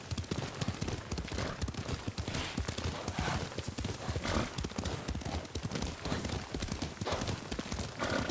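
Horse hooves gallop fast and close in a dense, driving rhythm in the video game Ghost of Tsushima, a continuous pounding clatter with no pauses.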